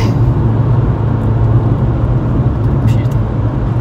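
A Maserati accelerates in the racing video game Project Gotham Racing 4, a loud, steady low engine drone held throughout, with road noise mixed in.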